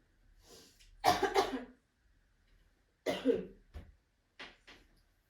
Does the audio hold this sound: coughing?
yes